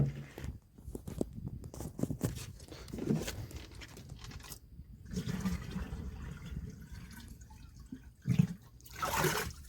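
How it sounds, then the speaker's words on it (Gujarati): Water poured into a pesticide sprayer pump on a farm, splashing and gurgling in uneven bursts with a louder rush near the end, fairly close. "તો આપણે પંપમાં પાણી નાખી દઈએ પહેલાં"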